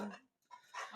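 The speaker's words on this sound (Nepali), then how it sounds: "घरको कुकुर चाहिँ भुक्दैछ" A house dog barks twice in short bursts, fairly close, with a brief quiet gap between the outbursts.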